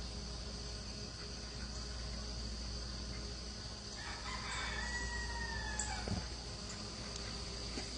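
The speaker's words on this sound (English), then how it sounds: "here come all the ducks and the chickens and quack, quack" A rooster crows faintly in the distance at sunrise, one drawn-out call rising midway through over a steady outdoor hiss with insect-like buzzing; no one speaks.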